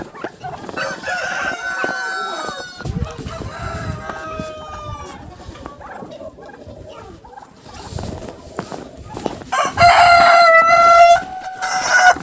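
Chickens cluck and a rooster crows repeatedly in a snowy winter village farmyard in Ukraine, with other poultry nearby; busy overlapping calls, loud and close, with a loud crow near the end.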